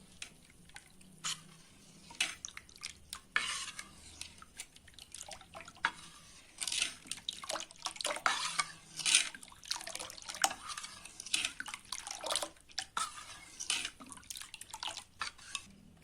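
Water trickles into a bowl of thin batter and is stirred with a spoon, giving irregular splashy clinks and liquid swishes that come in bursts, close and moderately loud, with no voices.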